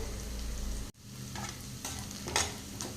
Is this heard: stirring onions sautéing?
yes